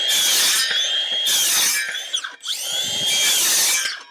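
Timber for a garden room frame being sawn in several close, loud strokes, rasping bursts separated by brief pauses as the blade is repositioned.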